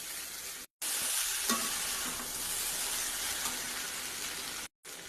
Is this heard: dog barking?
no